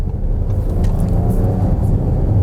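A 2017 Audi Q7 accelerates from a standstill, its engine giving a steady low rumble that builds slightly, heard from inside the cabin with road noise beneath.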